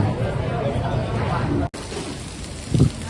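Rain falls outdoors in Singapore on a cool afternoon near a café, a steady dense hiss of rainfall with a brief cut midway and a short louder burst near the end.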